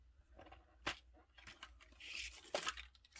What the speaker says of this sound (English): we have a black card base that I'm going to cut for us here